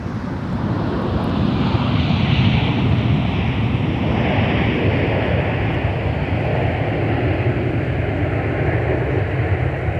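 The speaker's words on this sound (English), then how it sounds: "we'll take another look at our Delta arrival from Orlando, Florida" Delta airliner arriving at Minneapolis–Saint Paul airport on a flight from Orlando, Florida: a steady, loud broadband jet engine roar with wind rush, sustained and even throughout.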